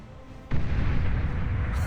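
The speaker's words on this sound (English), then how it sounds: "I thought for sure the nuke plus the fusion reactor going up in smoke would be enough to kill it." A nuke detonating on a fusion reactor in the strategy game Beyond All Reason: after a quiet half second, a sudden deep, heavy boom erupts and keeps rumbling loudly for over a second, with no voices over it.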